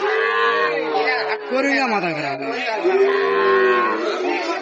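Sahiwal cattle bellowing at a busy cattle market, several long, loud moos overlapping one another close by, with only a faint hint of crowd chatter behind them.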